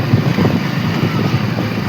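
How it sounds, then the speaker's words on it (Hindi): Wind rushes loudly and steadily past a motorbike rider on a cloudy monsoon ride through the Himalayan mountains, a constant close buffeting roar with no talking. "बाइक चल रही है, हवा लग रही है"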